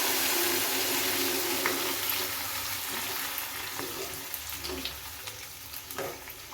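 Tomato fries in a pan with a bright, steady sizzle and crackle, broken by scattered pops and stirring scrapes that grow more frequent toward the end.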